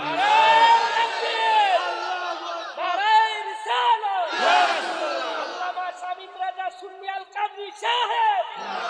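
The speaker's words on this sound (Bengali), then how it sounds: "জবান না খুলে জোরে একটা তাকবীর হবে না" A large gathering at a Bangla zikr shouts the takbir together, loud and close, with voices rising in full-throated unison cries and repeated chanted bursts, the crowd surging and falling over several seconds.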